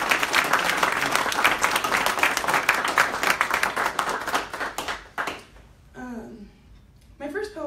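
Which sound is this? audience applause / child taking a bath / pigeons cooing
audience applause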